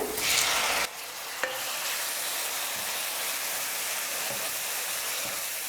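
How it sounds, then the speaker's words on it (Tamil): Chopped tomatoes for vadacurry sauté in a hot pan with a loud, steady hissing sizzle, a bright burst as they hit the oil at the start, and a single utensil knock, without talking. "தக்காளி பார்த்தீங்கன்னா நல்லா வெந்து கூழ் மாதிரி மசிஞ்சு வர அளவுக்கு நல்லா வதக்கிட்டேன்."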